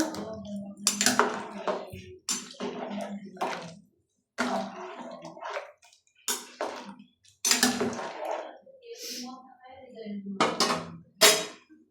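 Spoon stirring turmeric, salt and vegetables in a cooking pot for khichadi, with intermittent scraping and clinking in short bursts separated by pauses.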